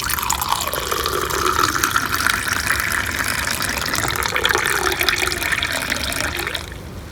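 White pumpkin juice is poured into a glass in a steady, continuous trickling stream of liquid that runs for several seconds, then stops abruptly near the end.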